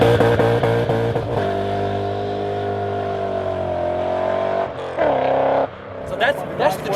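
BMW with a modern V8 engine idling and revving nearby, a steady loud rumble with a rising rev near the end, under some background talk at a car show.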